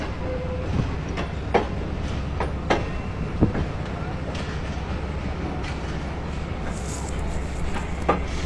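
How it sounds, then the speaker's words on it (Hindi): Pak Business Express passenger train pulling out of Rohri Junction, a steady low rumble of coaches with sharp intermittent clanks and clicks of wheels over rail joints, fairly close, with faint voices in the background. "ये ट्रेन कराची से लाहौर की तरफ जाती है"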